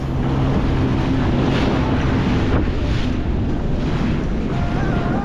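Sea swells and waves crash against a jetty in a constant loud roar, with heavy wind buffeting the microphone throughout.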